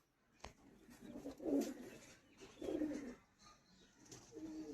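Madrasi pigeons kept for sale coo softly close by, with about three low, throaty coos spaced a second or so apart over a quiet background.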